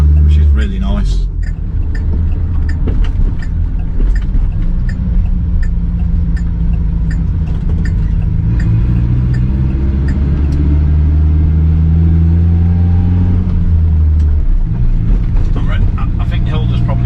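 A classic Hillman Imp's small engine hums and rumbles steadily from inside the car while driving, continuous and fairly loud, with people talking over it throughout.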